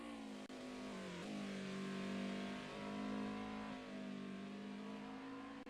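A DTM classic race car engine in a sim racing game drones steadily at high revs, with gear-shift dips and rising pitch sweeps as it accelerates through a corner, loud and continuous throughout.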